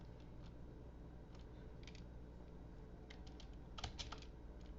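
Computer keyboard typing, a few faint, sparse key taps scattered over a quiet background, ending in a brief quicker cluster of keystrokes, with no talking.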